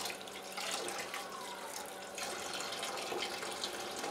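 Cold water runs steadily from a tap into a sink, a continuous splashing hiss that shifts slightly as the flow is adjusted, close by.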